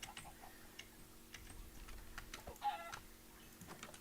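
Chickens in a Minecraft-style video game, with faint, quiet clucks and small ticking sounds from a small chicken farm over a low steady background.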